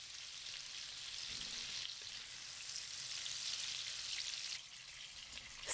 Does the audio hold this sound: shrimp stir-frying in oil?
yes